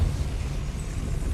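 In Hogwarts Legacy, the Depulso force spell is cast, producing a brief, loud, low blast-like rumble that roars through the whole short moment.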